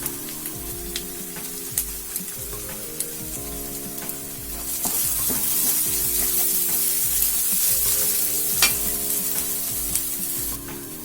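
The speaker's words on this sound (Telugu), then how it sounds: "ఇప్పుడు మనం ఇందులో ధనియా, జీరా పౌడర్ యాడ్ చేసుకుందాం." Coriander and cumin powder sizzle in hot oil for a dhaba-style chicken curry, a steady close frying hiss with repeated stirring scrapes and occasional clinks, growing louder partway through.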